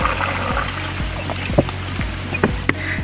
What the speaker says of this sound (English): I just fill my water to where I want it to be in the cup.